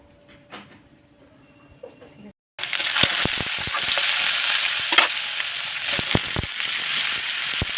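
Cauliflower and potato sizzle loudly in hot oil after a quiet start, with sharp clinks and scraping stirs breaking through the steady frying hiss.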